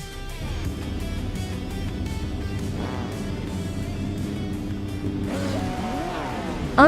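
Retro GT 500 race cars, including a 1996 Lamborghini Diablo, lined up at the start of a race at Anodurin in a racing video game, a layered idling and revving engine rumble building into rising revs and a sharp burst at the end.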